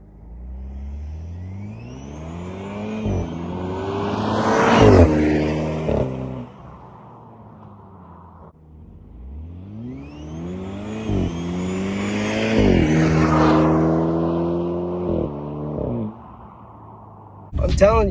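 A tuned BMW E30 with a Stage 2 N26 engine passes twice on an empty road, its engine rising and falling loudly with gear changes, then pops and burbles from the exhaust as it fades. A person talks briefly at the end.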